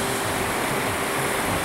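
Ocean waves wash over a small island in a steady, continuous broadband rush of surf, fairly loud and without pauses, with no voices.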